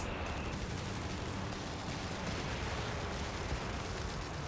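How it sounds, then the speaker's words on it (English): Sustained barrage of gunfire and explosions from a strafing or bombing run on the Mignano Summit map in Company of Heroes 3, a dense, continuous battlefield roar of rapid bursts with no pauses. "Looks like we had a strafe or something that happened over here, or a bombing run."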